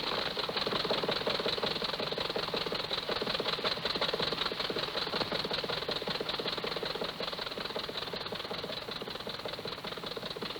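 A 1963 Buick car engine, freshly fitted with new spark plugs, runs steadily at idle with an even, rapid mechanical rattle and hum held at a constant level throughout, with no talking.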